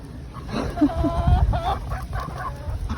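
Several chickens clucking and murmuring close by, soft irregular calls scattered over a low background rumble.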